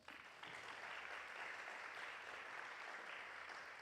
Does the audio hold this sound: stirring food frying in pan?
no